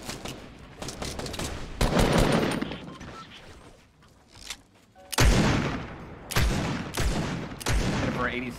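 Scoped revolver gunfire in Fortnite, several sharp, booming shots scattered across the gameplay at irregular intervals amid game sound effects, with players talking over it.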